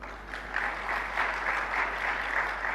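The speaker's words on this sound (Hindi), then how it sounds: "तालियां तो बजा दी" An audience at a religious discourse claps in steady, dense applause throughout, fairly close and even in loudness, over a constant low hum.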